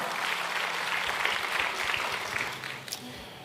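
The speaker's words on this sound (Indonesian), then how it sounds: "Boleh kasih tepuk tangan buat tim praise and worship kita." Congregation applauding the praise and worship team at an Indonesian church service, dense steady clapping that holds strong, then tapers off near the end.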